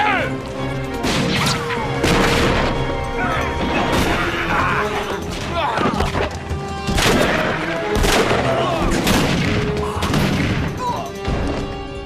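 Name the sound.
gunfire in a shootout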